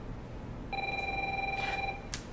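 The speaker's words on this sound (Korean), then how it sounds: "전화 왔다." A telephone rings in a quiet room for an incoming call, a single steady electronic trill lasting about a second before cutting off, with faint background noise and no talk.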